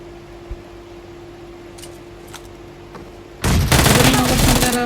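Shotgun fire in the BGMI battle royale game, a sudden loud burst of rapid blasts near the end after a quiet stretch of low hum and faint clicks.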